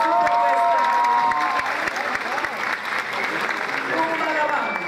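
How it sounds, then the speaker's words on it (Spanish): Strong, sustained audience applause for a flamenco dance school at a dance gala, a dense wash of clapping with crowd noise and cheering, and voices heard through it. "un fuerte aplauso a la escuela Viva Flamenco"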